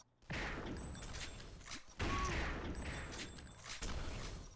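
Chain gun firing in a video game duel, loud, dense rapid bursts in two long volleys split by a brief pause, with faint game tones beneath.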